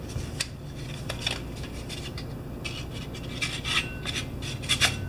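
A sharp folding Schrade shovel edge slicing into a piece of cardboard, giving repeated rasping, scraping strokes up close with short gaps between them.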